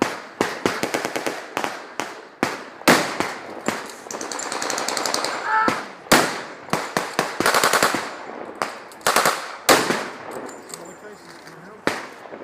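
Machine gun firing blanks at an outdoor wartime reenactment in Rawtenstall, Allies against Germans, loud rapid bursts of sharp cracks in short volleys separated by brief pauses, close to the listener, with some talk among the shots.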